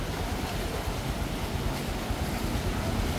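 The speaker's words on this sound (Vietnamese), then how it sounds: "Sóng đánh rất là dữ các bạn." Strong waves pound the shore during a thunderstorm with heavy wind and rain, a loud, unbroken rush of surf and gusting wind buffeting the microphone.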